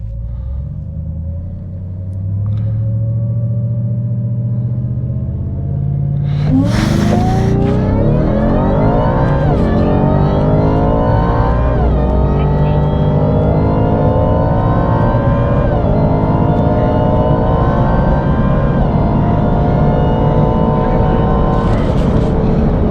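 A Ford Raptor R fitted with a 3.8L Whipple supercharger, held on the brakes at a low idle rumble before launching hard, its engine erupting into a loud, sustained roar with rising supercharger whine that holds for many seconds.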